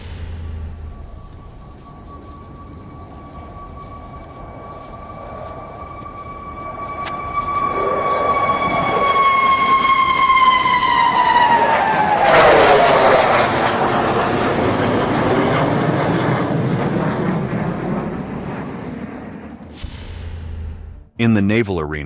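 A Su-57 fighter jet passes with a loud, sustained engine whine that slides downward in pitch as it flies by, then swells into a broad roaring rush before cutting off abruptly.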